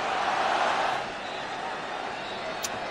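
A broad wash of stadium crowd noise rises as a Tottenham Hotspur vs Barcelona football match in California ends, swelling briefly then settling into a steady distant roar.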